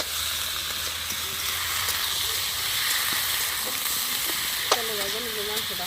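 Meat fries in hot oil, producing a constant close hissing sizzle, with a few light scrapes and a short squeaky utensil sound near the end.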